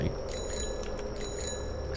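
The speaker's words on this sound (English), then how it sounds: "Are you upset that I was ringing my bell at you?" Bicycle bell rings repeatedly in a Japanese horror karaoke game, with bright metallic dings recurring over a steady ambient bed throughout.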